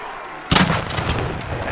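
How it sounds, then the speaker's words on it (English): A celebratory cannon booms once at a college football game between Millersville and West Chester after a touchdown, a sudden loud blast that cuts through steady crowd noise and rumbles on with lingering stadium din. "And there goes the cannon that we've long been waiting for."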